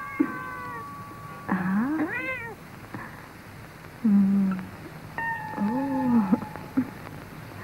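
A small cat left alone in a French western film scene gives several drawn-out, wavering meows, close and clear, with short gaps between cries and a person's brief exclamations in between.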